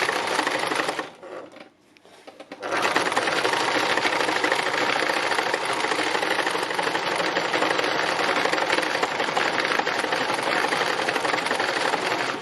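A sewing machine stitching free machine embroidery on fabric with yarn runs as a steady, close, continuous whir, briefly pausing near the start before resuming at an even level throughout.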